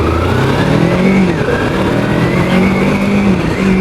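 A Kawasaki Versys X-300 motorcycle with a 296cc parallel-twin engine from the Ninja 300 runs steadily and loud and close, holding a droning, rising-and-falling engine note throughout with no voices.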